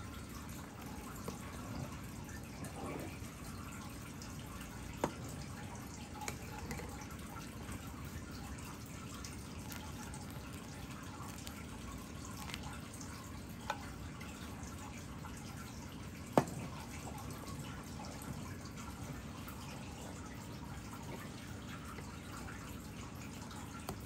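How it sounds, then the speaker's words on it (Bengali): Vinegar-mixed water added little by little to hot milk and stirred to split it into chhana for rasmalai, heard as soft continuous liquid trickling and dripping with a few faint clinks, steady and fairly quiet throughout. "এই পর্যায়ে এখন আমি ভিনিগার মেশানো জলটা দিয়ে দেব। একবারে দেব না, একটু একটু বাদে নাড়াবো আর দেব।"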